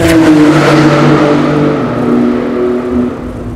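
Tuned car making a quarter-mile run at a tuning show at Yas Marina in Abu Dhabi, its engine roaring loud and close as it accelerates hard with a steady rising drone throughout.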